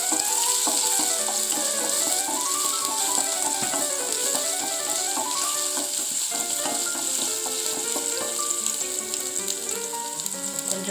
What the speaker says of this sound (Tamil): பூண்டு வதக்கிட்டு அப்புறம் இஞ்சி அதை போட்டுக்கோங்க.